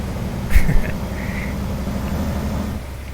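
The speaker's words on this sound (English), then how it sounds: "My horn sounds so dumb." Cheap truck horn in American Truck Simulator giving a short, thin nasal honk with a brief second blip, followed by a steady engine hum underneath.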